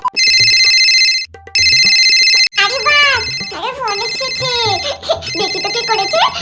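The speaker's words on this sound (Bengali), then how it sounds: "এই সোনাই দিদি তুমি ফোনটা ধরো দিয়ে হ্যালো বলো" A mobile phone ringtone plays loud and close in two bursts, then a voice talks over further ringing as the tone keeps going in the background.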